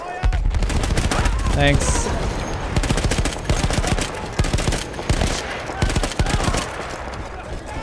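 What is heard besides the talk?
machine gun fire in the video game Battlefield 1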